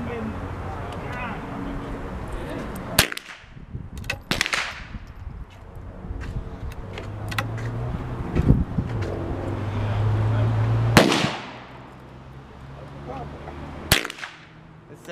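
Winchester M1885 Low Wall rifle fired at 35 yards outdoors: four sharp, loud cracks spaced several seconds apart, with people talking in between and a low background hum.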